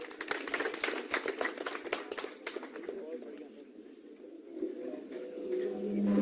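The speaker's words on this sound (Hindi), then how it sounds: "जरा जोरदार तालियां इनके लिए भी करके सब आभार प्रकट करें" A crowd at a public meeting for a road foundation stone laying in Himachal claps briskly, the sharp patter fading after a few seconds as a voice speaks over the room.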